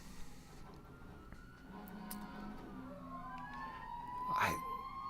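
An emergency vehicle siren wails in rising and falling sweeps from a distance, swelling louder toward the end over a steady background hum.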